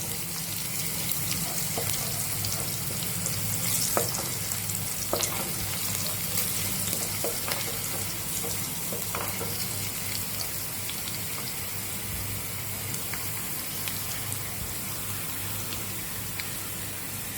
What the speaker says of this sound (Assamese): তেজপাতটো দি দিছোঁ লগতে।